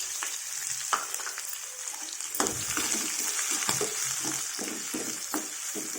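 Spices and green chillies frying in oil in a pan give a soft, steady sizzle and crackle, with occasional stirring scrapes, close and fairly quiet, with no talk.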